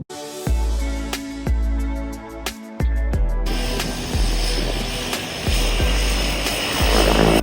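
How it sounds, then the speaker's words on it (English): Sightseeing helicopters and planes drone overhead at Milford Sound, New Zealand. The engine noise is loud and continuous, and sharp repeated thumps and clatters cut through it, with no talking. "during the day there's constant noise from the helicopters and aeroplanes going over sightseeing"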